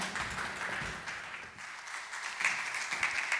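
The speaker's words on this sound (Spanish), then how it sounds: "Un aplauso para él" An audience at a business conference in Santiago de Compostela claps for a speaker, a steady wash of applause at moderate level that sags briefly midway and then swells again.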